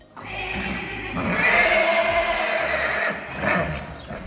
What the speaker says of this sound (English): the Arabian horse stands out for its outstanding performance in endurance riding and its ability to bond with humans.